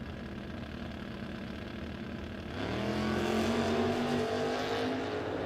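A 1967 Camaro drag race car launches at a drag strip, a steady engine drone rising into a louder, climbing roar partway through, heard from a distance.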